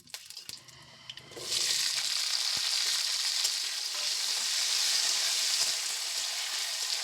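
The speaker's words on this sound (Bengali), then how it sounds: "কড়াইতে সর্ষের তেল গরম করে নিয়ে 5 ফোড়ন আর শুকনো লঙ্কা ফোড়ন হিসাবে দিয়ে কিছুক্ষণ ভেজে নিয়ে জলপাইগুলো দিয়ে দেব।" Olives hit hot mustard oil with five-spice seeds and dried red chillies, bursting into a loud, steady sizzle after a few quiet stirring clicks, the frying hiss continuing close and unbroken to the end.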